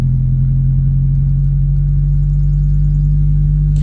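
A car driving slowly on a trail in Windber, Pennsylvania: a loud, steady low engine drone with constant rumble and no changes in pace, heard close with no voices.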